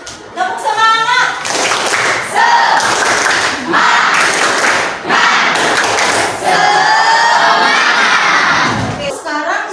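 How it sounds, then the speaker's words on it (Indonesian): Schoolchildren in a classroom shouting the 'tepuk semangat' clapping chant together, loud rhythmic group claps mixed with energetic chanted voices, close and continuous throughout. "Nah, tepuk semangat."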